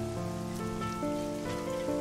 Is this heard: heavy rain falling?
yes